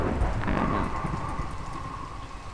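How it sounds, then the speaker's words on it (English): Steady rain falls in the Minecraft video game while a low thunder rumble rolls in at the start and fades, leaving a constant wash of rain. "I like that thunder. That's nice."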